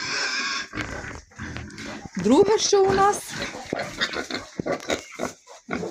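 Pigs grunting and squealing in a farm barn, several sharp loud calls in a burst near the middle, close by, with someone talking over and between them.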